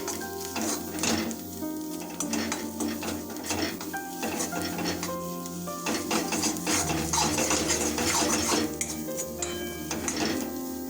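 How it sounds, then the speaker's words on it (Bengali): Three green chilies sizzle in hot oil in a wok while a utensil stirs and scrapes steadily against the metal, close and continuous with clinking through the whole stretch. "এখন আমরা কড়াইয়ের উপর যোগ করবো 3টে কাঁচা লঙ্কা"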